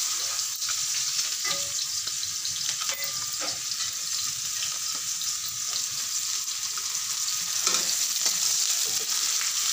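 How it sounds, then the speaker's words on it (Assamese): Finely chopped onions, added with a few whole spice seeds, fry in leftover fish-frying oil for a fish curry, making a continuous close sizzle with intermittent spatula taps and stirring scrapes. "এয়া মিহিকৈ কাটি থোৱা পিঁয়াজ দি দিছোঁ মাছ ভজা তেলখিনিতে"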